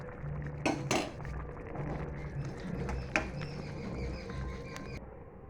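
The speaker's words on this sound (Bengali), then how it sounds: "এবার এগুলো দিয়ে একটু নাড়াচাড়া দিয়ে নিই, যাতে সব ভেজে।" Pointed gourd (potol) being stirred as it fries in a pan, with a few sharp metallic clinks of a utensil against the pan over a quiet background hiss, soft overall.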